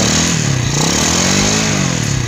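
A Yamaha JZN or Vega ZR motorcycle engine runs close by with a loud, uneven, rough-sounding idle from its clutch linings being removed, its pitch wavering slightly throughout.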